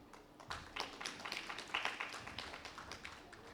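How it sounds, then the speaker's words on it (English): A small group claps for a few seconds at a panel event, a scattered patter of hands at moderate volume with no talking. "Can we have a better round of applause, please?"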